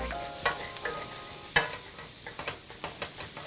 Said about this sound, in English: Scrape up any bits in the pan